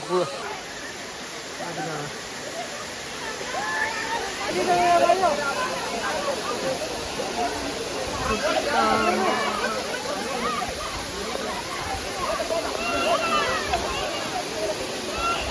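Kiliyur waterfall in Yercaud pours in a steady broadband rush of flowing water, close and continuous for the whole stretch, with a person talking over it.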